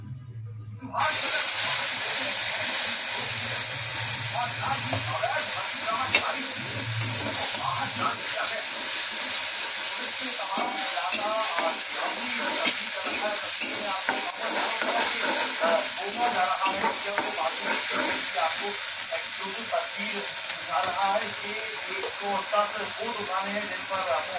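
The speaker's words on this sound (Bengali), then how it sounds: "কালো জিরে সম্বর দিলাম।" Nigella seeds tempering in hot oil for a Bengali mustard hilsa dish, a sudden loud burst of sizzling that settles into a steady hiss with stirring scrapes throughout, close up and without talk after a brief quiet start.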